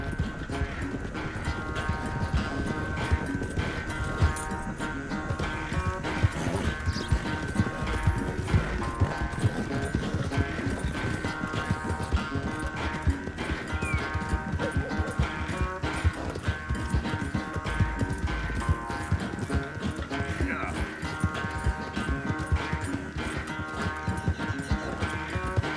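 Horse galloping in Red Dead Redemption 2, with rapid continuous hoofbeats and an occasional whinny over a dense, steady game soundscape with music.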